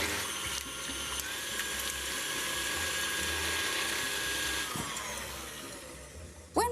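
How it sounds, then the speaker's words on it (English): Egg whites with a pinch of salt whisked for a dacquoise, a steady continuous electric-mixer whir with a faint high tone, holding level for about five seconds before easing off, with no talking. "Pop it in with the egg whites and whisk away."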